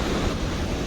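Water pours over a dam in a steady, close, broadband rush with a windy hiss mixed in. There is no talk.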